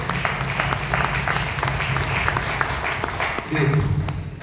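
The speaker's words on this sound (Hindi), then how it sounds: "मैं चाहूँगा एक बार जोरदार ताली हमारे डायमंड प्रेसिडेंट ब्रजनाथ सर के लिए, जोरदार ताली" An audience claps at a business gathering honouring a diamond president, scattered sharp hand claps blending into steady applause, with a voice speaking over it.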